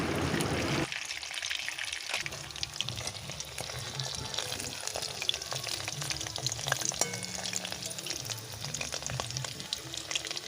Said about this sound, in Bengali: এবার সেইগুলো কড়াইতে দিয়ে দিচ্ছি এগুলো দিয়ে আরও তিন চার মিনিট ভালোভাবে ভেজে নেবো